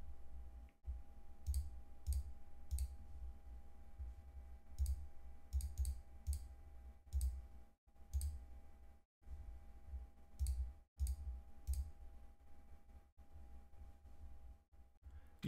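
Computer mouse clicks while entering a frequency in SDR software: a series of sharp, close single and double clicks spread irregularly over a steady low hum, with no talk.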